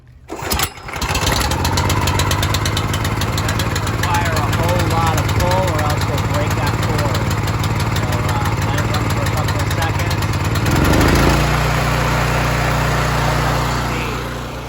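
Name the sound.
Xjet pump engine running after a pull cold start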